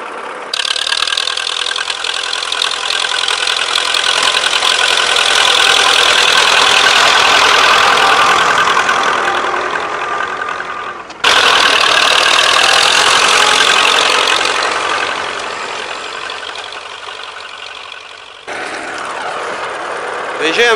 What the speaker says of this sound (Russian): Трактор идет, не чувствует.